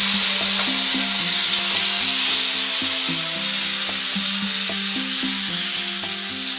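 Steady, loud sizzling as a ground tomato, ginger and jaggery paste cooks in a hot pan, with a constant hiss, overlaid by a continuous buzzing tonal hum throughout.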